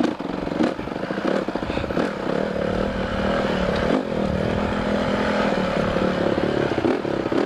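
A dirt bike revs and churns steadily around a motocross track, its engine loud and close the whole time, with clattering and scraping over the rough ground.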